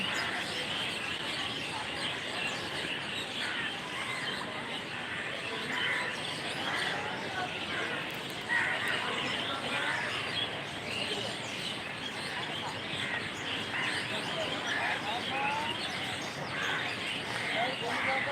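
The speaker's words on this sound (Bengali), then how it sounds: "পাখিদের কোলাহল" Many birds chirp and call together in a park in Khulna as dusk falls after sunset, a dense, steady chorus of overlapping tweets held at an even level throughout.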